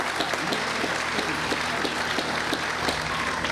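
Steady outdoor applause from a crowd at a Veterans Honor Parkway ceremony, moderately distant, with a continuous patter of many hands and no voices over it.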